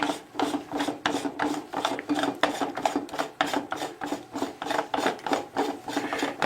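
Battery housing lid on a Seametrics unit being unscrewed by hand, a close rhythmic rasping scrape repeating in quick, even strokes about twice a second throughout, with no speech.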